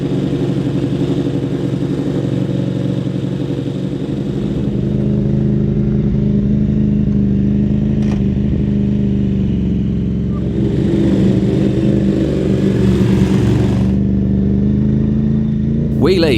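A KTM 950 Rally motorcycle with an Akrapovič exhaust holds a loud, steady engine drone that swells into a rev near the end, heard close up and alone.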